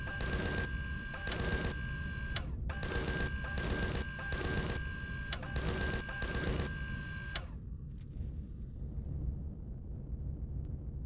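Gatling gun in the space-survival game Empyrion fires in rapid mechanical bursts with a whining tone, several volleys broken by short gaps over about seven seconds before cutting out to a quiet tail.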